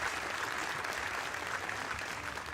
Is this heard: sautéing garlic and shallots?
no